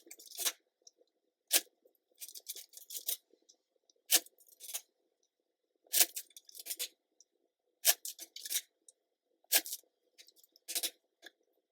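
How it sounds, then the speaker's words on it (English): Tarot cards being shuffled by hand, a series of short crisp riffling and flicking bursts spaced a second or two apart, close and fairly quiet with near silence between them. "Let's shuffle."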